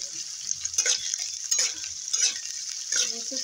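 Chopped chilli and onion sizzle in a hot pan while being stirred, a bright frying hiss broken by a few irregular scraping strokes of a spoon, close and alone.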